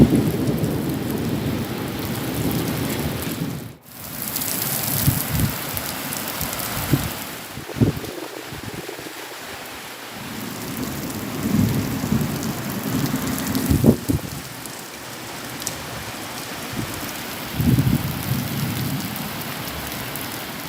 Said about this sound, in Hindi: इस दौरान कई जगहों पर आसमानी बिजली भी गिरी। झमाझम हुई बारिश